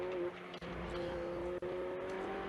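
Ferrari Challenge race car at Circuit de Barcelona-Catalunya, heard onboard running flat out in 7th gear downhill, a loud steady high-pitched engine drone with two brief gear-shift dips.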